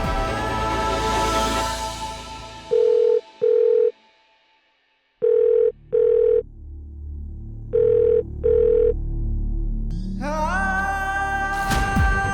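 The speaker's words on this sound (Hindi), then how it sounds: "फिर एक बार फोन लगा उसे" Telephone ringback tone on an outgoing call in a TV drama, repeating as paired rings separated by pauses, clear and prominent over a dramatic musical underscore that swells at the start and end.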